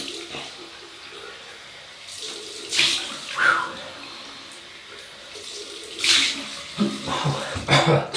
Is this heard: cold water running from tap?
yes